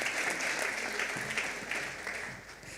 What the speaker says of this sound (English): Let's give him an applause and an appreciation as he comes